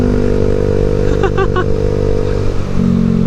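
A Yamaha Xeon RC 2013 motorcycle engine hums steadily and loud from the rider's position throughout, with brief clattering and a faint voice-like blip in the middle.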